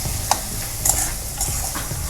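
Soaked dried bombil fish is stirred in masala in a pan for a Marathi-style dry curry, a soft sizzle running underneath a few light scrapes and clinks of the spoon.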